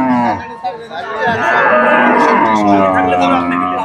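A Friesian cross cow moos loudly and at length at the Rajshahi city cattle market, its drawn-out low call rising and holding for several seconds amid the murmur of the market.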